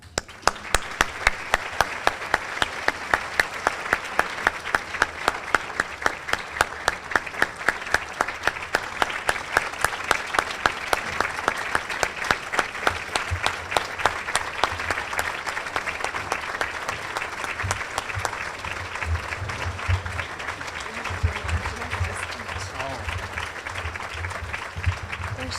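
A luncheon audience applauds to welcome a speaker at a charity fall luncheon, a dense, steady wash of many hands clapping that stays loud throughout, with some low murmuring creeping in toward the end.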